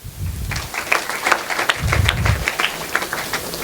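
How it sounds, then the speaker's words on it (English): Students clap for a classmate during a school health awareness programme, a scattered, uneven burst of hand claps that builds and continues, with brief low voices mixed in. "Clap for him."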